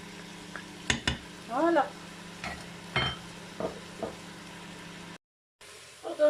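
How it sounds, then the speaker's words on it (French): Onions sizzle as they are stirred into a Cookeo cooker, with a soft frying hiss under a few scraping stirs and utensil knocks, briefly cutting out near the end, while a voice speaks a word. "je vais ajouter mes oignons. Et on va faire revenir tout ce petit monde."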